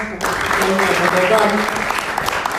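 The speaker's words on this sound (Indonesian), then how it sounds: "Tepuk tangan buat mereka" A church youth congregation applauds its musicians, a short burst of brisk clapping with a voice or tonal sound mixed in underneath.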